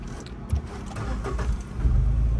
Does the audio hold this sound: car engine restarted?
yes